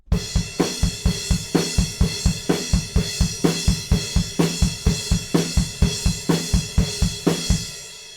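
Rock drum groove played on a kit, with steady eighth-note kick drum hits and regular snare backbeats under washy cymbals, loud and close, with no talking.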